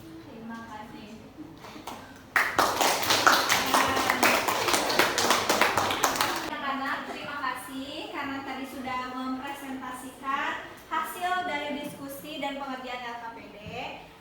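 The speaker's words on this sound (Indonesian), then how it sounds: "Kasih tepuk tangan" A classroom of students applauds loudly together for about four seconds after a spoken request, the burst of clapping then giving way to a teacher's talk with faint scattered claps beneath it.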